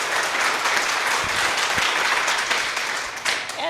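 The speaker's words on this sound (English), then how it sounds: "Applause" A room of people at a monthly club meeting applauds, dense clapping with a few louder individual claps standing out near the end.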